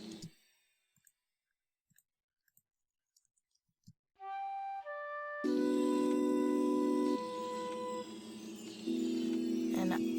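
Hip-hop beat built in Reason 10.1: sparse clicks, then layered synth chords and bass sound for several seconds, and the final note cuts off abruptly with no fade-out.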